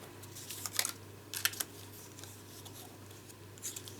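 Scissors cut through cardstock in a few crisp, close snips, with short bursts of blade clicks and a quiet pause before a final snip.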